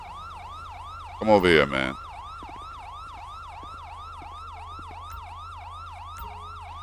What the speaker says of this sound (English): That siren is getting on my damn nerve.